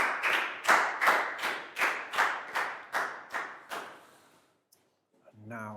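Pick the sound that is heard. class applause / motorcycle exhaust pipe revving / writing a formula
class applause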